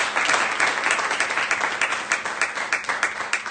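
A church congregation applauds, a dense, sustained wave of many hands clapping with a steady pulsing rhythm, loud and close, with no voices rising above it.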